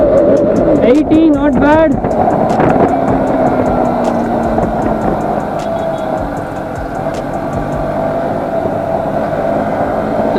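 KTM Duke 200 motorcycle (2020 BS6) pulling in third gear, a steady engine drone rising gradually beneath heavy wind rush, with a rider talking briefly early on.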